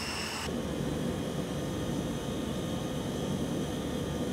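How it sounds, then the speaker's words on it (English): A Hawker Siddeley HS748 turboprop taxiing in a flight simulator gives a steady, even engine drone with a broad hiss and a faint high whine, constant throughout with no voices. "we're just going to continue taxiing now"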